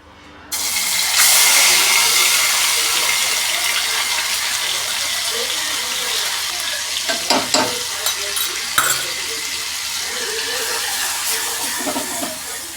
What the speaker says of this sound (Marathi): तर आता हे जे वाटण आहे ह्याला हलकंसं फ्राय करून घेतलं